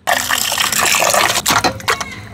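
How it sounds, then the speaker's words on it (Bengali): Water splashing over raw leg meat being washed in a bowl, a loud continuous gush with splashy bursts as the pieces are handled, close up. "তা আমি গোস্তটা এখন ধুয়ে লাই"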